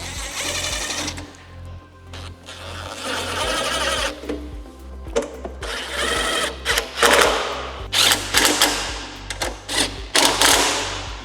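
Four bolts are driven and tightened on a 2024-2026 Harley-Davidson Street Glide Ultra, heard as loud, close bursts of rapid mechanical whirring and clattering that start and stop repeatedly.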